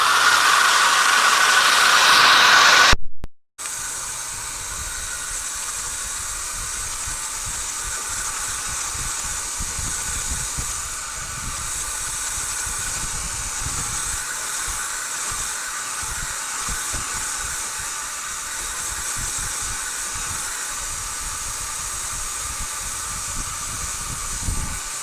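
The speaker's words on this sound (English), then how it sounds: "I'm going to hit this with a hairdryer and go to the next step very shortly." A hair dryer's steady, loud rushing hiss of blowing air runs continuously after a brief cutout, with no voices over it.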